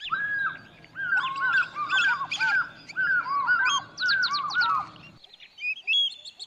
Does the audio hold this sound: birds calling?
yes